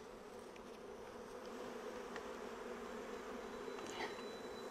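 Honeybees buzz steadily around an open hive during a brood inspection, a dense, continuous drone with a few faint clicks and knocks of hive parts.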